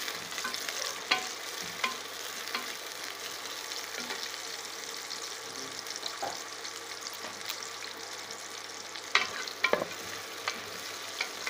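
Finely chopped small shallot onions sizzle and fry in a pan for a country chicken curry, a steady crackling hiss with occasional spoon scrapes, close and moderately loud.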